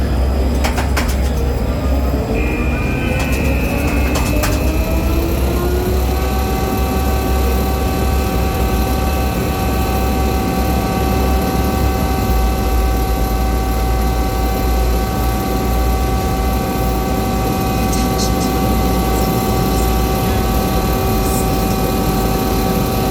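Roller coaster Hyperia running at Thorpe Park, a loud continuous mechanical roar with a rising whine that levels into steady tones, heard from nearby without talk.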